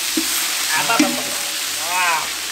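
A cup of ginger garlic paste sizzles loudly as it is stirred and scraped in a hot pan with fenugreek and coriander, continuous close frying with spoon clatter and a brief voice.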